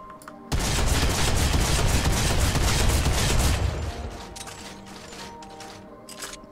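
A drum shotgun in Fortnite: Battle Royale fires a loud, rapid volley of blasts for about three seconds, then the sound fades into quieter echoing tails and a few scattered later shots.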